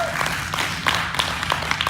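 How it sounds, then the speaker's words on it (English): Church congregation applauding, a dense, even wash of hand claps with some individual claps standing out close by, continuous and moderately loud. "Give them a hand clap of praise."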